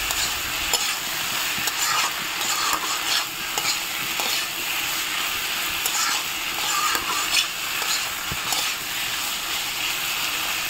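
Elephant-foot yam curry with spices cooks in a pan, stirred with a steady sizzle and repeated scraping strokes that stay close and fairly loud throughout, with no talking.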